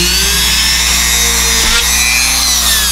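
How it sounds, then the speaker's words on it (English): A Dremel rotary tool drilling a pilot hole in a 3D-printed grill for an 80's NASCAR Monte Carlo model, a loud, sustained high-pitched whine with a slight wavering pitch and no talking. "I'm going to drill a pilot hole to get things started"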